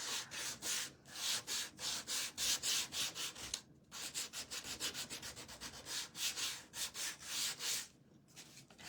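Sandpaper rubs rhythmically back and forth over a chalk-painted wooden bunny, giving close, scratchy strokes about two per second with a few short pauses.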